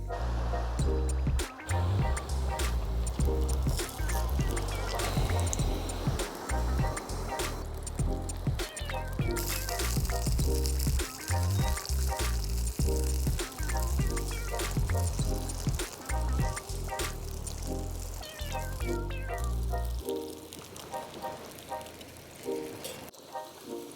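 Battered fish pieces sizzle and crackle steadily in hot oil for a spicy fish sandwich, a loud, dense frying hiss throughout that thins out near the end, with a few clanks and handling noises mixed in.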